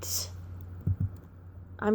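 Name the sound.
typing a search phrase on a computer keyboard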